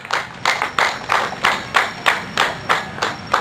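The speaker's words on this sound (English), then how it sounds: "please, to give a thunderous clap to our chairman" An audience at an International Albinism Awareness Day event claps for the chairman, with steady rhythmic applause at a brisk, even pace, fairly close and continuous.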